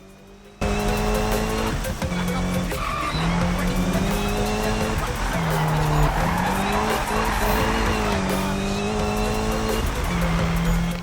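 Need For Speed racing game car drifting, its engine droning loudly throughout as tires squeal and skid in long sustained sweeps that rise and fall with the drift, steady and close for the whole stretch.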